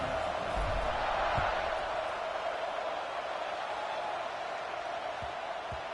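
A stadium crowd at a Tennessee versus Texas college football game, just before kickoff, heard as a distant, steady roar of many voices with scattered cheers under faint announcer talk.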